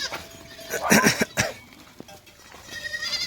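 A goat bleats nearby in a short wavering burst, followed by fainter rustling and a distant bleat at the end.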